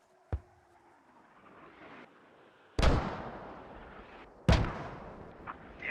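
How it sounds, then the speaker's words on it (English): Three mortar rounds fire in a military video game, each a sharp booming thump with a long decaying rumble, spaced a few seconds apart in a quiet field. "More mortars being shot out here."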